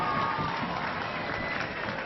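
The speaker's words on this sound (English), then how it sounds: "But just listen to the crowd." A rugby stadium crowd in Connacht against Samoa roars in a continuous dense wash of cheering and clapping, distant and sustained without a break.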